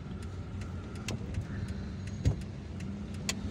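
Light car traffic on a street in Algiers, a steady low rumble of engines with a few brief louder bumps and clicks, no voices.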